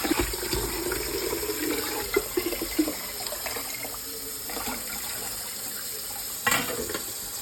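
Water runs steadily into the top chamber of an AlexaPure gravity water filter, a continuous pouring and splashing wash with a few brief louder sloshes, close by and alone without talk.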